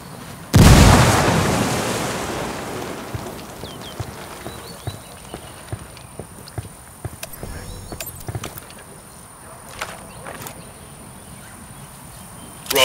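A frag grenade blast in the video game Ghost Recon: Wildlands: one sharp, loud boom early on that decays over a couple of seconds, followed by scattered faint clicks and pops, with a voice briefly audible.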